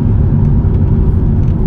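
Aston Martin V12 Vantage with a manual gearbox, rear-wheel drive, its V12 engine running with a steady, loud, close low rumble and whir throughout.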